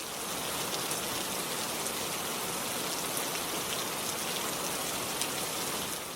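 Steady rain falls on a surface as dense, even hiss with scattered drop patter, continuous and fairly close, with no talk.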